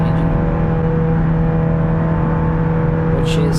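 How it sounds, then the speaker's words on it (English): An overheating Ibishu Miramar engine in a driving game drones at steady high revs, loud and continuous with a strong hum throughout. "Also, I'm overheating the engine,"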